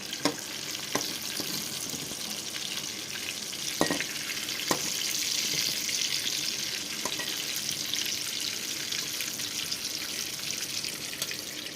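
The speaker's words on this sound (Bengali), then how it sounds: "বেগুনটা এইভাবে আমি ভেজে নিয়েছি।" Brinjal slices frying in hot oil in a Bengali home kitchen, a steady close sizzle with scattered sharp crackles and a few clinks of a spatula against the pan, no voices.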